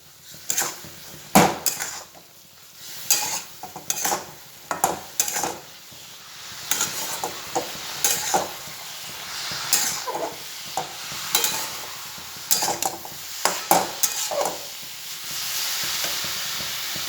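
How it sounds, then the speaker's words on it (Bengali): Semolina and raisins are stirred in a frying pan, a spatula scraping in irregular bursts over a soft dry sizzle, close and fairly loud, with no one talking. "এবার আমি দিয়ে দেব সুজি আর কিচমিচটা দিয়ে আমি নাড়তে থাকবো"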